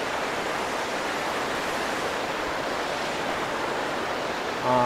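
Steady rushing water of the Chor River at a campsite in Kampung Sahom, Kampar, Perak, flowing continuously, a broad even wash of sound like a river running over rocks, close and unbroken.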